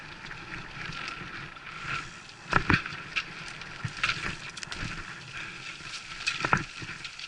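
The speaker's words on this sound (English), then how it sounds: "Okay, here we are, taking a run at the new jump." A bicycle rides a backyard dirt trail up and over a small tabletop jump, with rolling tire rumble, wind buffeting, and a few thumps and rattles from the landing.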